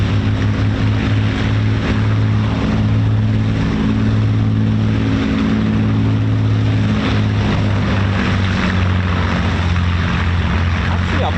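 A Eurofighter Typhoon FGR4 jet engine at RAF Coningsby roars in a steady ground run, a loud continuous droning hum with a low pulsing tone, heard from a distance with faint talk underneath.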